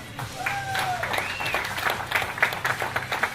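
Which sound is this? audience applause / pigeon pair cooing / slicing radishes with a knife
audience applause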